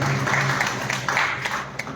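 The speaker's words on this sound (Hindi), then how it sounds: "जोरदार तालियों से उनका अभिनंदन करें, स्वागत करें।" Audience clapping at a Hindi poetry evening in Lucknow, a dense burst of applause from a seated crowd, steady and close, with individual claps standing out through the two seconds.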